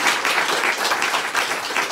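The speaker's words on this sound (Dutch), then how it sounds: "Geef een geweldig applaus." Audience applause at a live comedy podcast recording, a short burst of dense clapping from the crowd, loud and steady throughout.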